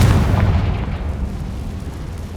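A deep booming explosion from a spell cast in the video game Hogwarts Legacy, loud and close with a heavy low-end blast that rolls off into a fading rumble.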